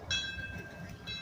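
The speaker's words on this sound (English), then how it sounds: "Hey, you got a whistle?" A steam whistle on a 1922 Buffalo Springfield road roller at a steam engine show parade gives a short high-pitched blast, then a second brief toot a second later, heard at moderate distance over outdoor crowd rumble.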